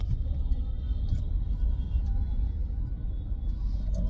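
Low rumbling road traffic heard from inside a car stuck in a jam, a steady muffled engine and tyre drone with faint passing vehicle noises and occasional light clicks.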